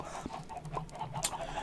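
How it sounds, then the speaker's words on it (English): Chickens in the video game Minecraft, kept in a pen with an egg-collecting hopper, give soft, quick clucks in a short burst over a faint background hum. "over here are chickens, obviously with a hopper system, so the eggs go straight down"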